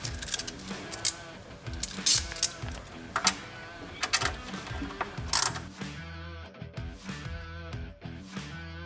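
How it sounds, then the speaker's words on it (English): Bolts being tightened during an electrical controller install on an E-Z-GO TXT 48 golf cart, heard as close ratchet clicks and metallic tool clatter in irregular bursts. "And then we'll just tighten up the bolts we put in."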